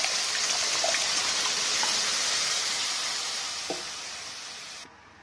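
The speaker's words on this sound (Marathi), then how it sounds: "त्यानंतर हे मी मुगाची डाळ टाकून घेणार आहे. याच्यात शिजवलेली आहे डाळ." Cooked moong dal hitting a hot pan in a home kitchen, a loud, steady broadband sizzle and hiss that fades slightly before cutting off near the end.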